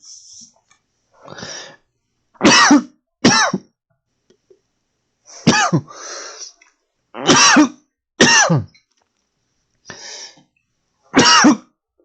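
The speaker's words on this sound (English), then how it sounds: "maybe they hear me coughing or something" A series of harsh coughs and throat clearing, loud and close, in separate bursts separated by short silences.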